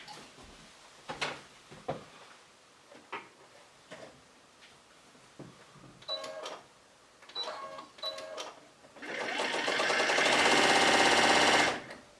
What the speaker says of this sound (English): We're going to put the short piece over here and sew it.